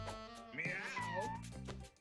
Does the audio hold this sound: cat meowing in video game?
yes